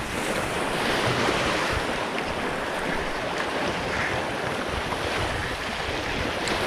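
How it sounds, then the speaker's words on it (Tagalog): Big waves roll and crash on a lake, a steady loud surf wash with strong wind buffeting the microphone throughout. "narito lang oh sa malalaking alon"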